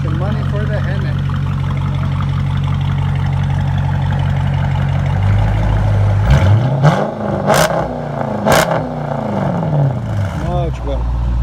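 A Dodge Challenger R/T with a 5.7L HEMI V8 and aftermarket exhaust idles with a deep, steady rumble, then revs up and down several times, loud and close, with people talking over it.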